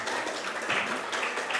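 Audience of junior high students at a school OSIS election debate in Pekanbaru clapping together in a steady, dense wash of applause, moderately loud and continuous throughout.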